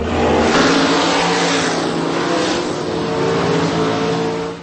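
Loud, continuous roar of revving drag racing car engines at a drag strip, with rising and falling pitch, close and dominant, no talking.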